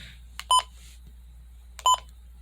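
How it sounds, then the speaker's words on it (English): Two short electronic button beeps from a Midland WR120 weather radio, spaced about a second and a half apart, sharp and clear over a faint background hum. "Button beeps is basically what you're hearing right now."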